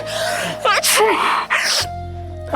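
A woman sneezes loudly and close up, with gasping breaths between the bursts, in a Marathi TV serial scene.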